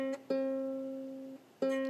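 A single ukulele string plucked twice, each note ringing clearly and sustaining with a slow fade before the next pluck, close and alone with no talking.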